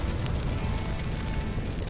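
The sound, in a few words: roar and crackling of a burning plain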